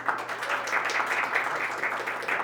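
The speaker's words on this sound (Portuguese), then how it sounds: "Palmas para a Tiane" Steady, dense applause from an audience at a panel discussion on youth and environmental sustainability, holding an even level throughout without pause.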